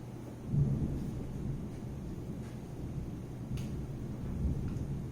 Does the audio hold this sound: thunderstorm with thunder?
yes